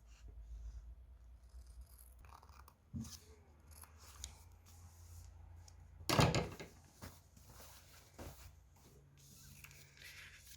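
Scissors snipping through fabric for a bandana baby bib, with scattered soft cuts and handling noises, one louder sharp snip midway, all fairly quiet and close.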